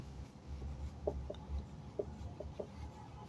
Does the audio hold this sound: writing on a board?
yes